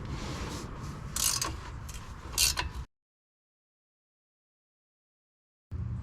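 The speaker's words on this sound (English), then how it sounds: "You need two 18mm to break this loose, and we're just gonna go ahead and take this one out." Loosening the bottom shock bolt on a Jeep Wrangler front shock with two 18mm wrenches: a few close metallic clicks and scrapes for about three seconds, then silence, then a brief burst of noise at the end.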